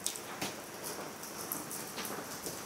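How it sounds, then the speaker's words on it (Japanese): Rain patters steadily on the fabric of a rooftop tent, a dense close hiss with scattered sharper drops and no voices. "大体の雨はもうこんな感じでバシバシね"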